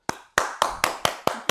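Seven separate, sharp hand claps in a slow, slightly uneven rhythm, close and distinct with short decays between them, heard at a presentation event; only one or a few people clap, with no voices.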